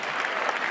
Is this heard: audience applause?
yes